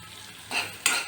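Chopped onion and garlic frying in butter in a pan for broccoli almond soup, with two short bursts of sizzling and stirring up close and no one speaking.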